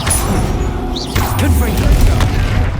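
A Bombarda explosion spell is set off in a troll fight in Hogwarts Legacy. Quieter battle clatter and a voice give way to a loud, deep booming thump and a rumbling tail in the second half.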